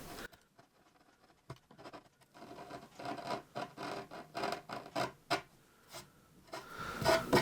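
Edge banding strip is peeled and pulled away from a wooden board by hand, giving close, uneven bursts of scratchy tearing and rubbing that grow louder and more frequent after a quiet start.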